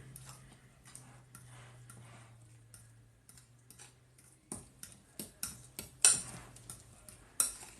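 Spoon stirring a mixture in a bowl, soft irregular clinks and taps that grow louder and more frequent toward the end over a low background hum.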